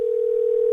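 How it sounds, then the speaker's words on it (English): A single steady electronic tone from a phone on an outgoing call sounds loud and unbroken for under a second, with no voices over it. "Oh, the phone's ringing."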